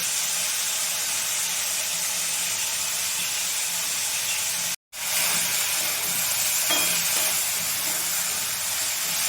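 Spiced papaya and red lentil curry base with cumin powder frying in a pan, a steady loud hiss and sizzle running throughout with one brief break in the middle.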